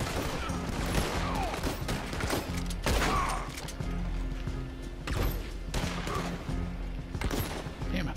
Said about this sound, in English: Now he's shooting at me.